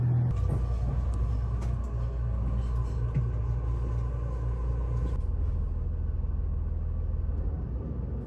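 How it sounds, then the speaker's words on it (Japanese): Sightseeing train pulling out of Rikuzen-Yamashita station, heard from inside as a steady loud low rumble of motor and running gear with a hum that shifts partway through, continuous throughout. "陸前山下駅を出発。"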